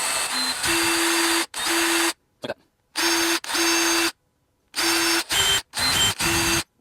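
A drill runs in repeated short bursts near a Honda's brake master cylinder, whining on and off with brief silent gaps between pulls of the trigger.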